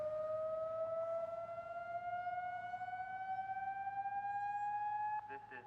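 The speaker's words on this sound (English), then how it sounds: "The city conducted its second audible test of the Torrance Now Sirens last week" A Torrance Now civil defense warning siren under test gives one loud, steady wailing tone that slowly rises in pitch, then breaks into a few short pulsing bursts at the very end.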